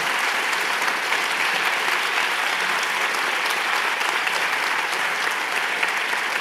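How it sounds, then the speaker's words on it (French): A conference audience gives a guest speaker strong, sustained applause, a thick and constant patter of many hands filling the room at full loudness for over six seconds. "Fabrice Drouel, vous pouvez l'applaudir bien fortement."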